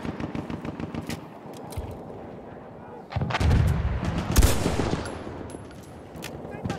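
A semi-automatic weapon fires in a World War I video game amid a battlefield din of artillery and scattered shots. Repeated loud cracks come at an uneven pace and peak in the middle as the rumble swells.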